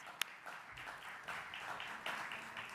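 Audience at a live poetry reading applauding and cheering for a poetry group taking the stage, a steady patter of clapping with a few whoops rising over it at moderate distance.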